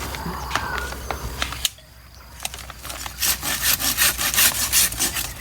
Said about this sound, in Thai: หนาตัดไม่ได้แล้วต้องใช้เลื่อยแล้วเนี่ย